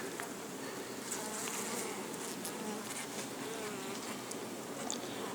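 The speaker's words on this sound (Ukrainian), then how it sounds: "А поки бджоли працюють." A dense, steady hum of many honey bees buzzing continuously, close by, with individual insects passing now and then.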